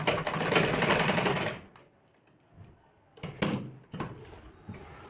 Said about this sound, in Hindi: यहाँ पे हम 2-3 बार सिलाई मार लेंगे